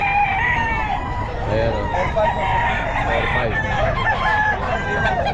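Several stag roosters crow over one another at a busy Bulacan pet market, their calls layered and continuous with clucking around them, while a voice speaks briefly nearby.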